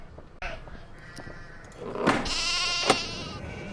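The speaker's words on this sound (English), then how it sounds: "all we can do is just sit here and listen to the sheep" Sheep bleat in the Nancy Drew video game Haunting of Castle Malloy during a sheep-herding scene: a few short calls, then a louder, wavering bleat that fills the second half.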